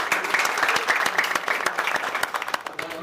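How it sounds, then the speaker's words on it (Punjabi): Audience applause at a salon opening in Mohali, a dense burst of many hands clapping close by for a few seconds, fading slightly toward the end. "ਇੱਕ ਵਾਰ ਜ਼ੋਰਦਾਰ ਤਾੜੀਆਂ ਹੋ ਜਾਣ"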